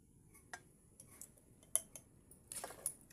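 A spoon scoops homemade pickle into a storage jar, giving a few sparse, light metallic clinks and taps against the container. The sounds are quiet and close, with short pauses between them.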